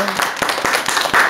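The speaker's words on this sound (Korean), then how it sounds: "다 무승부로 하고 서로 박수" Seniors in a recreation class clap for one another, a short burst of scattered, uneven hand claps close by with some voices mixed in.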